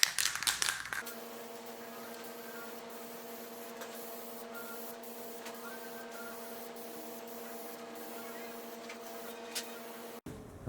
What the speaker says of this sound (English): I'm going to spray the inside with this Minwax wood finish.